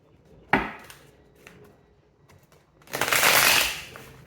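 Tarot cards shuffled in two bursts, a brief riffle early on, then a louder, sustained crisp flutter of card edges near the end, with quiet handling between.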